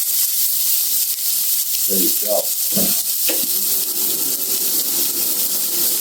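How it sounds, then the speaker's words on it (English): Onions and garlic sizzle and fry in a hot pan with a steady broadband hiss throughout, interrupted briefly by stirring and a short spoken remark near the middle. "let's get these onions into the pan. Look at that. I love that sound. Nice sizzle right there."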